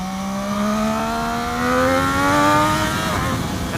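A Triumph Daytona 675R sport bike engine revs up steadily in a rising, close, loud whine under hard acceleration, with no voices.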